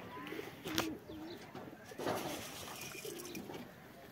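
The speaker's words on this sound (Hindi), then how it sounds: "और ये गाइस आया हुआ है कबूतर" Pigeons coo softly in low, throaty bursts, several repeated calls nearby against quiet outdoor background noise.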